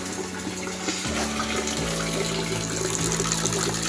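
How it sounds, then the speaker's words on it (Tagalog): Leftover water drains from a fire hose pipe that has lost its pressure, a steady rushing gush nearby. A low tonal hum shifts pitch underneath, and no one speaks. "Yung pipe, meron pa natitirang konting tubig."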